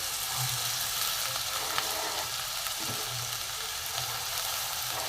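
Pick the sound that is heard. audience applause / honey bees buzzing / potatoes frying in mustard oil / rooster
potatoes frying in mustard oil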